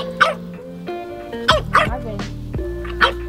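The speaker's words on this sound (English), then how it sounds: "They're not gonna like you if you bark, Marvin." A 10-week-old French bulldog puppy lets out several short, high barks and yips in an irregular burst, close and fairly loud indoors.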